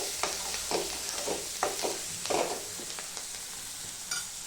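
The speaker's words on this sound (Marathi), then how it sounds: "हे पण तेलामध्ये चांगली फ्राय करून घेते" Chili powder and fresh coriander frying in hot oil with green beans in a home kitchen, a steady close sizzle broken by several soft scraping stirs of a spoon, no voices.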